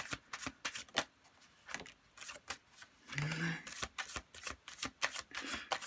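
Tarot cards being shuffled by hand: quick riffling bursts and soft slaps in an uneven rhythm, close and fairly quiet, with a brief low hum partway through.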